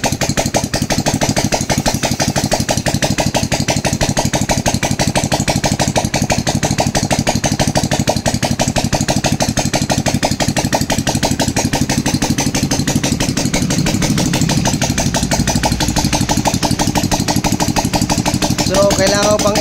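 A Suzuki Smash 115 motorcycle fitted with a Sniper head idles while warming up, a loud, close, continuous rattling putter that stays steady throughout.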